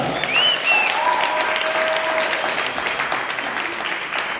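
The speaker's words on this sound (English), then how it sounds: "Ladies and gentlemen, please make some noise for Tanya Evanson." Steady applause from a large audience, clapping continuously with a few whistles rising over it, without a break.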